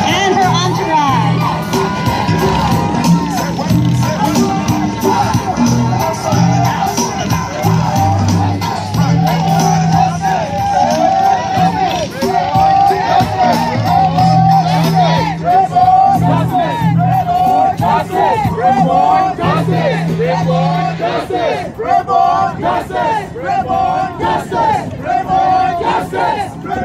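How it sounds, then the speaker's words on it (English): A large outdoor crowd at a July 4th Independence Day celebration roars and whoops in a sustained, loud cheer, with shouts and children's cries mixed in and an announcer's amplified voice over the top. "Please give a big cheer"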